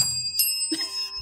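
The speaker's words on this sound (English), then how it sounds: "we're ringing these bells when something profound has been said" Small bells ring briefly with bright, sustained tones that overlap and fade within about a second, with no talk.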